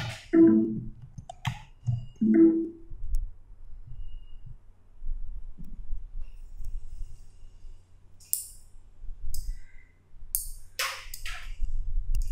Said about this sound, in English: so you see that the relay is working